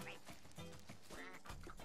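A cartoonish duck quacks in Rayman Legends on the Wii U, several short nasal honks spread across a couple of seconds, fairly close and set over busy game music and effects.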